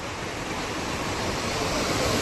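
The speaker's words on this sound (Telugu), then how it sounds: "వాటర్ ఫాల్స్ అనమాట ఇవి, రిపల్ వాటర్ ఫాల్స్ అని" Ripple Waterfalls near Munnar produce a dense, continuous roar of falling water. It is loud and close and sounds like broadband rushing noise with no pauses or voices.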